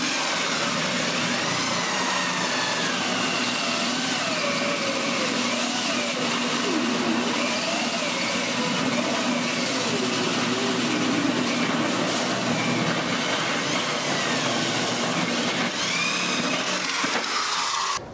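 A steady, loud mechanical whine of a power drill with a hole cutter grinding through metal while building a plastic melting column, continuous and harsh for the whole stretch, with no talking.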